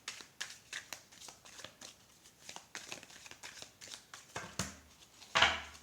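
A deck of tarot-style cards shuffled and handled for a nine-card reading, quick riffling flicks and soft slaps in an irregular rhythm, close up, ending in a louder burst of shuffling.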